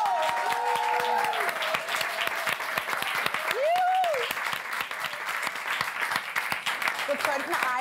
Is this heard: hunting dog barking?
no